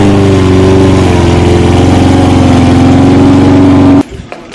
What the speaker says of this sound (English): out here mowing this lawn